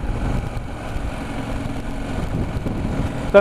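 A KTM 790 Adventure motorcycle ridden on the street in third gear at low revs, its engine giving a steady, smooth mid-range drone with wind noise throughout.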